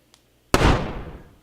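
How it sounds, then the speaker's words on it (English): Mouth-made bazooka firing effect for a video game, a single sharp burst preceded by a tiny click, blooming into a broad, noisy blast that decays over about a second, close and loud. "It's a pretty short gunshot sound."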